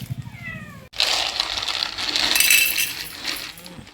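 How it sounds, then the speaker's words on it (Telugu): A hungry cat meows in a few quick rising cries, then a loud, steady rustling clatter takes over as food is poured out for the cats at feeding time. "క్యాట్స్ అయితే చాలా ఆకలితో ఉన్నారు, సో పోయి ఇప్పుడు వేస్తాం"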